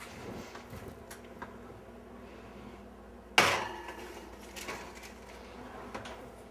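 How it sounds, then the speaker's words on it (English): A sharp clunk as a pavlova meringue is put into an oven and the door shuts, a single loud knock against quiet kitchen background. "So let's pop that in the oven."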